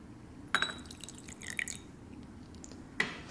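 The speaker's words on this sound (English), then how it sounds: "I'm gonna pour it into this glass cup so we can see the real color." Tea poured from a small vessel into a glass cup, heard as a brief splash and trickle with a light clink of glass at the start and another short pour near the end, quiet and close with no talk.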